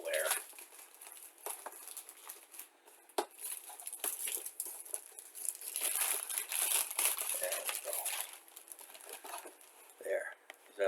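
Shrink-wrap plastic crinkles and crumples close up as it is pulled off a Tamiya 1:24 Porsche 911 GT1 model kit box, in bursts of rustling with short pauses, louder in the middle.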